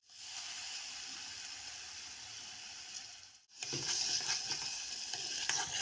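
Garlic sautés in a pot for Egyptian koshari with a steady, moderately loud hiss. It cuts off for a moment, then returns louder and crackly as more goes in.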